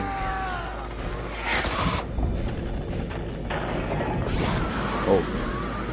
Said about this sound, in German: Oh nein, jetzt explodiert das hier alles.